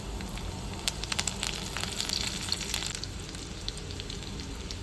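Cumin seeds, chopped garlic and curry leaves sizzle and crackle in hot oil for a tempering, a steady close frying hiss with scattered sharp pops and no talking.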